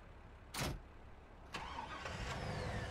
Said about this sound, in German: Ah, ich fahre mit dem Auto auch.